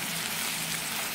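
A bangus sisig mixture with tomato, onion, pepper and a little soy sauce sizzles steadily in a pan as it is stirred, a short, even hiss with no voices.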